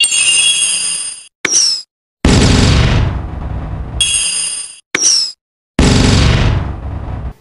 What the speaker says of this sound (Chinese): 这是2技能剑雨的特效及音效。